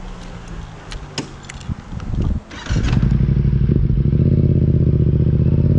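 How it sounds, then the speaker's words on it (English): A street motorcycle, close by, with some clattering and shifting noises before the engine rises into a loud, steady, continuous roar as the clutch is let out for small wheelies. "go out, pop the clutch a little bit, and just do little tiny wheelies"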